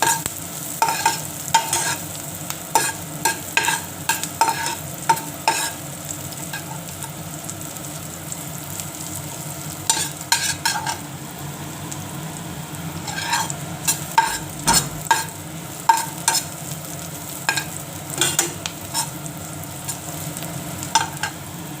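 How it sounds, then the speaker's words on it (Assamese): Onions frying in a pan until dark brown for chira pulao, with steady sizzling and repeated sharp scraping strokes of a spatula stirring them, close and loud. "অকমান ডাৰ্ক ব্ৰাউন হোৱালৈকে মই ভাজিম পিয়াজখিনি"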